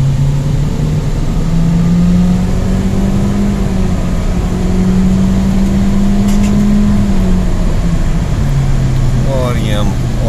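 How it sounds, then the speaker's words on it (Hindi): A 2015 Toyota Corolla engine drones steadily at low pitch, its tone rising and holding under full throttle toward about 110, with continuous road and cabin noise throughout. "ये हम फुल थ्रॉटल देते हैं"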